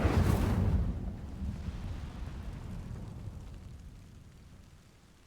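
Incendio fire spell in Hogwarts Legacy setting dry vines alight: a loud whooshing burst of flame at the start, then a steady low roaring crackle that slowly fades, with no voices.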